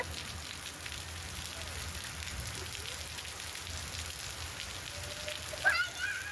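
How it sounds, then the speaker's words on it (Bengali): Heavy rain pours outdoors as a steady, dense hiss of drops hitting surfaces, with a faint low rumble underneath and a brief sharper knock near the end. "অনেক বৃষ্টি হচ্ছে অনেক"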